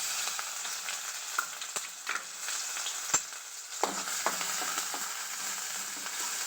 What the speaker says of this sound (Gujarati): ચપટી હિંગ નાખી અને ડુંગળીનો વઘાર કરી લેશું